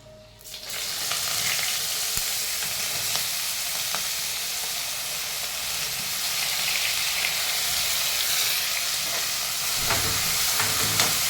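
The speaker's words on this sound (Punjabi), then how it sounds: "ਪਿਆਜ਼ ਸਾਡੇ ਹਲਕੇ ਜਿਹੇ ਭੁੱਜ ਗਏ ਆ ਜ਼ਿਆਦਾ ਨਹੀਂ ਭੁੰਨਣੇ ਆਪਾਂ" Onions frying lightly in a pan give off a steady, dense sizzle that starts abruptly and holds evenly, close and fairly loud with no voices.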